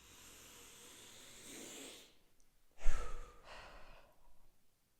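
Close, deep breaths during a guided breathing exercise: a long airy inhale, then a heavier, louder exhale that trails off softly, with no voices.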